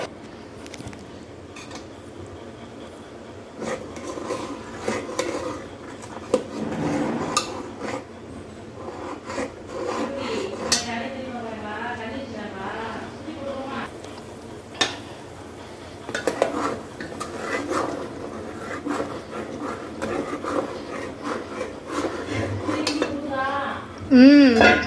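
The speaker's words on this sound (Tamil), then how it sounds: "இப்படியே வந்து நல்லா கிண்டிட்டே இருங்க." A metal spoon scrapes and stirs homemade ghee in a pan, with irregular clinks and rubbing strokes that come and go close by.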